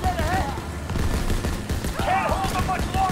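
Rapid gunfire in Call of Duty: World War II crackles as dense, continuous bursts under someone talking throughout, with music and game effects layered beneath.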